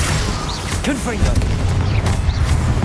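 Fiery Confringo blast spells burst in Hogwarts Legacy, a dense run of rumbling booms and whooshing magical sweeps that overlap continuously at close range with no pauses.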